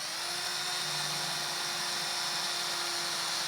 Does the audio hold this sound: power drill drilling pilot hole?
yes